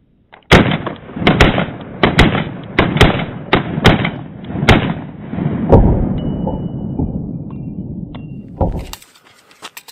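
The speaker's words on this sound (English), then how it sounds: "We'll pop off some more rounds." Pistol fitted with a Legion precision compensator fires a rapid string of about a dozen loud, sharp gunshots close by, each crack trailing off into ringing reverb, with a few more shots spaced out after a brief pause.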